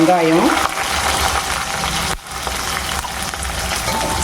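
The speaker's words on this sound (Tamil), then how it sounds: "வெங்காயம் நல்லா வதங்கணும்." Onions sizzle and sauté in a pan with mustard seeds, fenugreek, garlic, curry leaves and green chilies: a continuous hissing fry, with a brief voice speaking at the start.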